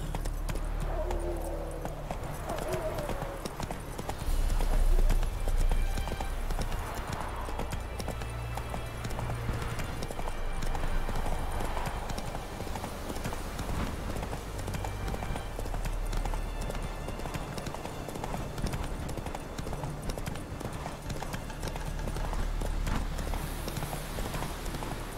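Horse hooves in The Witcher 3: Wild Hunt clatter in a steady, rhythmic clip-clop beat that runs throughout, moderately loud over a low game ambience, with a brief brighter swell of sound near the start.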